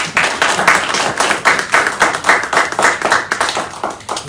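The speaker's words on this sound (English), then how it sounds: "Let's have a little applause for our accountant." A small town hall audience claps for a few seconds in an even, moderately loud burst of applause, with no talk over it.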